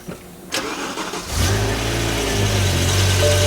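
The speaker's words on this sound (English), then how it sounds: "Listen to that V10 rumble to life." A BMW E60 M5 with a V10 engine and SMG gearbox cranks with a brief starter whir, catches loudly, then settles into a deep, steady, rumbling idle close by.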